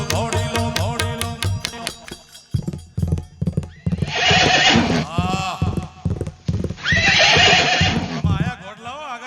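At a Rajput folk music gathering, a horse gives loud whinnies and neighs between bursts of rhythmic clip-clopping hooves. Singing with instruments plays throughout and overlaps the horse sounds.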